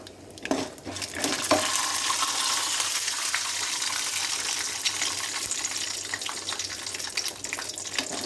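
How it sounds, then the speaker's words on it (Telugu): Peanuts sizzle and crackle in hot oil, with a spoon stirring and scraping the pan; steady frying noise throughout. "ఇలా పల్లీలు వేయించుకోవాలి."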